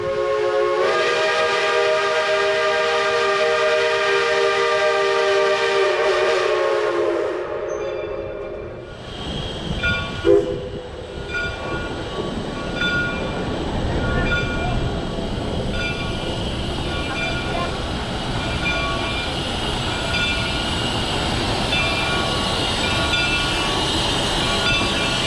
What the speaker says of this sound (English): So the train just came into the station.